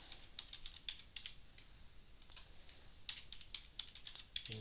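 A new password is typed on a computer keyboard in quick bursts of close, crisp key clicks separated by short pauses, with no talking.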